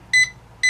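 Egg incubator sounding its low temperature alarm: two short, loud, tonal electronic beeps spaced about half a second apart over a quiet background hum.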